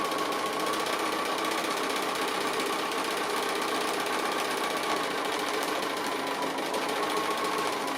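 Domestic sewing machine stitching appliqué, running steadily and continuously throughout at a constant close whir with no pauses and no voices.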